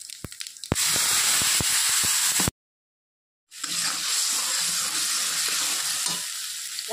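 Ground spice paste with coriander hits hot oil already holding bay leaf, dried red chilli and whole cumin for a Bengali fish curry, crackling in sharp pops before a loud continuous sizzle that breaks off briefly and then resumes.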